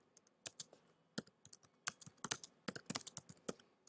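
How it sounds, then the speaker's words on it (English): Computer keys clatter in quick irregular bursts as text is typed, close and fairly quiet, with short pauses between clusters of clicks. "So I'm just typing out a little bit of text"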